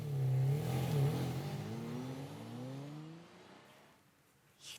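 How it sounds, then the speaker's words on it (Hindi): A car engine revving hard at night as the vehicle speeds away, the tone climbing in pitch and then fading into the distance. "ये तिवारी जी इतनी रात को इतनी तेज गाड़ी चलाकर कहाँ जा रहे हैं?"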